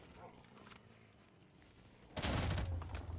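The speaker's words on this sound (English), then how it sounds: "this is a burst fire?" A burst-fire FFAR rifle, the FAMAS, fires in Black Ops 3 custom zombies on the Vokzal Minecraft map. One loud, close burst of shots breaks in over a quiet game background near the end.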